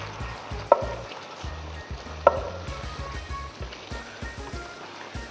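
Braised pork trotters and sea cucumber bubbling and sizzling in a pot over high heat while the sauce reduces, a steady close simmer with a couple of sharp clinks.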